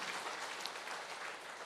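A church congregation claps in thanksgiving during a Sunday sermon, a soft, even wash of many hands clapping together, faint and distant, with no voices over it.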